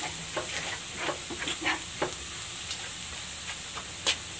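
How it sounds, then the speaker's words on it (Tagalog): Ginger and garlic sauté in a pan, a steady soft sizzle broken by intermittent scraping stirs, close and moderately quiet with no talking. "Igigisa ko na tong luya."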